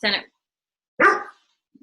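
A dog barks twice indoors, two short sharp close barks about a second apart, loud and alone with silence between them, during an online council meeting.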